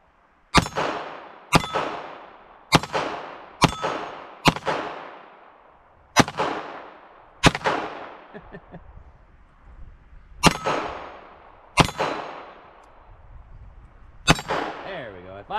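A Taurus TX22 .22 pistol fires about eleven separate shots, each followed by a sharp metallic ring from the steel targets. The shots are loud and close, spaced roughly a second apart with a few longer pauses.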